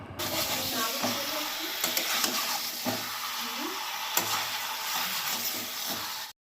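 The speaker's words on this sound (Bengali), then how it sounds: "কিছুটা রসুন বাটা দিয়ে নেড়ে চেড়ে তাতে ম্যারিনেট করা মাংস দিয়ে দিতে হবে কিছুক্ষণ নাড়াচাড়া করে" Marinated country chicken frying in a pan with garlic paste, sizzling and hissing steadily while a utensil stirs and scrapes it in irregular strokes, fairly close and continuous.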